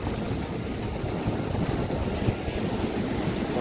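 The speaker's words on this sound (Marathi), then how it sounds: "हा चिकनी बीच आहे" Broad, steady wash of surf and wind at Chikni beach on the sea shore, a continuous rushing roar with gusty microphone wind noise and no clear individual wave breaks.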